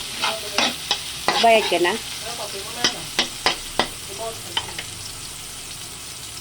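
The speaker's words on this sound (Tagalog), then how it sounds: "magsusutin muna tayo ng bawang sibuyas" Garlic and onion sautéing in a pan for chicken feet adobo, with a spatula stirring and scraping in sharp repeated strokes over a steady sizzle, close by, as a person speaks briefly.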